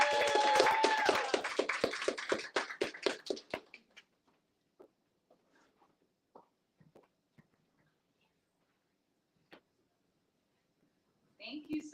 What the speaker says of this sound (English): So if we can give her a round warm of applause as she comes up.